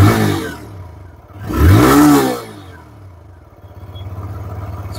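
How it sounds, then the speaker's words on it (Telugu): A TVS Raider 125 motorcycle idles up close, then its exhaust rises in one short, loud rev before dropping back to a steady idle. "ఒకసారి బైక్ ఒక ఎగ్జాస్ట్ నోట్ కూడా వినిపిస్తాను."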